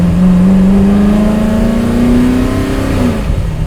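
A Superformance Ford GT40 MKII with a heavy clutch and a five-speed dogleg gearbox pulls away hard, its loud engine note climbing steadily in one long, close rev before the pitch eases off near the end.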